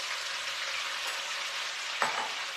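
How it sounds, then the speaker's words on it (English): Beef sizzles steadily in a hot pan, a close, even frying hiss with a brief scrape partway through. "If it sizzles, it should sizzle."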